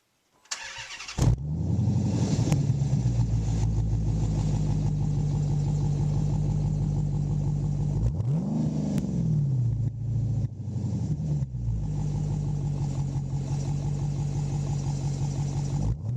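A Dodge Challenger engine with Blastin' Bob's Magnaflow resonator exhaust, already warmed up, cranks and fires into a deep steady idle, then gets two brief throttle blips that swell and settle back to a rumbling idle.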